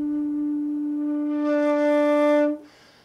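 A wooden end-blown flute, likely a shakuhachi, sounds one steady tone with a breathy swell and a short accented sforzando attack that cuts off abruptly, leaving a brief airy tail, close and alone.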